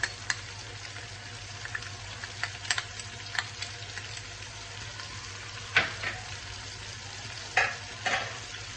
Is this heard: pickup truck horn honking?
no